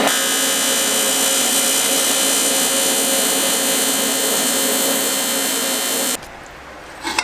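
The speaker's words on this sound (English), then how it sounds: "Tape together, lay some tacks, and go ahead and weld it." Welding tacks on an exhaust pipe section for a K20 turbo MR2: a steady, loud, buzzing, hissing tone runs unbroken for about six seconds, then cuts off abruptly to quiet.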